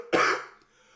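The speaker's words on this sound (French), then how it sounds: "t'as toujours ta petite toux" A man gives a single sharp, close cough that fades quickly into silence.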